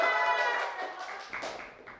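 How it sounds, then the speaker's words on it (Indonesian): A short burst of audience applause: quick, fairly soft clapping that fades over two seconds, with a brief voice mixed in. "Wow, tepuk tangan sekali lagi guys."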